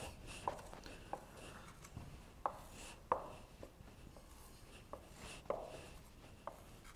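A pen sketching a tangent graph on paper, soft scratchy strokes with a few light taps, quiet and close.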